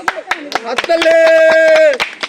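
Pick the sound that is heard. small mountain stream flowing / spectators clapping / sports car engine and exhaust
spectators clapping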